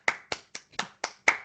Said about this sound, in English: you get a clap from JJ